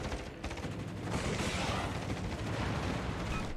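Naval guns fire from a ship in a naval video game, a sustained heavy roar of gunfire and rumbling blasts that swells partway through and stays loud and dense to the end.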